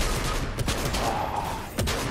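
Gunfire in a Fortnite competitive match: a continuous wash of rapid shots and sharp cracks, loud and close, with a couple of stronger bursts standing out and no voices over it.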